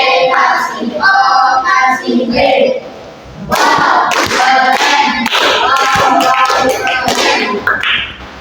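A classroom group performs a 'tepuk wow' clap chant, clapping in rhythmic bursts with a short pause near the middle. Loud, close claps mix with chanted voices and thumps.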